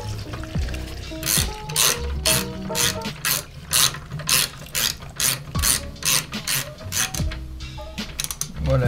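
Ratchet wrench clicking in quick repeated bursts while a bolt is snugged on the rear axle assembly of a Mazda MX-5, close and loud with mechanical rattles between strokes.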